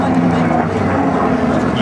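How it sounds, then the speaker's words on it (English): Spitfire Mark 16 with a Packard Merlin engine, heard at the Temora Aviation Museum, droning loud and steady with a faint high supercharger whistle riding on top. "You can hear that second aircraft, the Mark 16, that little whistle from the supercharger, as you mentioned there, the Packard Merlin engine."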